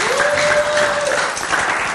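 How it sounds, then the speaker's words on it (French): A church audience applauds loudly at a show with a Fally Ipupa lookalike, a thick, continuous wash of clapping with a faint voice over it. "Est-ce qu'on peut applaudir fort pour Fali Poupa?"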